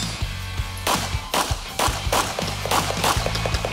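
Pistol fire at a USPSA LoCap Nationals shooting match: a rapid string of loud, sharp shots in quick bursts with short pauses between, over a steady low hum.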